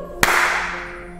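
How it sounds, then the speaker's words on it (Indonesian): A single sharp hand clap from a group of Sunday school children rings out loud and close, followed by a short fading room echo and quiet background hum. "Tepuk tangannya 1 kali."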